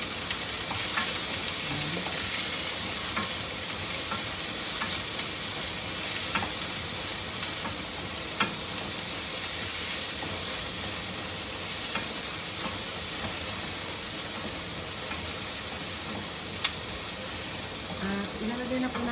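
Onion sizzles and fries steadily in a hot pan while igado is cooked, a dense continuous crackle with occasional light stirring clicks throughout.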